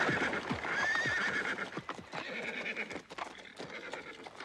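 Horses pulling a carriage gallop with rapid, clattering hoofbeats, and a loud neigh rings out near the start, the galloping rhythm continuing steadily throughout.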